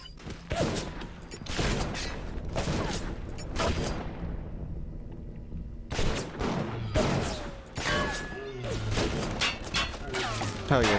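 Rapid bursts of automated turret gunfire in the Bioshock video game, loud repeated volleys over about eleven seconds with short pauses between clusters, mixed with impacts and faint game sounds.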